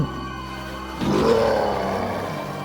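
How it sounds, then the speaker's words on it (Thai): A loud, growling monster roar from a fairy tale, rising abruptly after a second of quiet and sustained with a rumbling, slowly fading tail, heard alone. "เกิดเสียงคำรามดังกึกก้อง"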